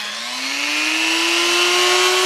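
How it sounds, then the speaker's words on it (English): A motorized buffing wheel spins up and polishes a Yamaha FZR muffler, a loud steady whine that rises slightly in pitch over a dense grinding hiss, close and continuous, no talking. "Run over to the buffing wheel and I'll just do a little test here to satisfy myself."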